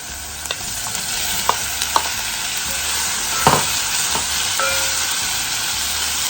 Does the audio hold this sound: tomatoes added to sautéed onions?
yes